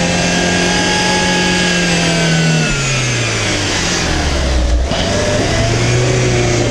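A Renault Duster or Lada Niva 4x4 engine roars loud and close as the car pulls away, revs climbing through gear changes over several seconds with a brief dip in the middle.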